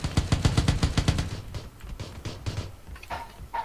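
Automatic weapon fire in PlayerUnknown's Battlegrounds: a rapid burst of about ten evenly spaced loud shots, followed by a few scattered fainter shots and metallic clicks.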